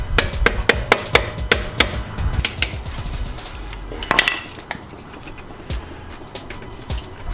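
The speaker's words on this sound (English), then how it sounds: "I'm gonna bring the caliper out." Brake caliper removed from a Nissan GT-R, heard as a rapid series of close metallic taps and clanks, followed by a scraping clatter and then quieter handling noises.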